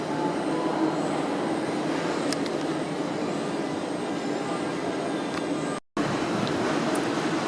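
Train at Rotterdam Central station, a steady low rumble with broad noise around a waiting or moving rail car, continuous and fairly close, with a brief dropout near the end and no speech.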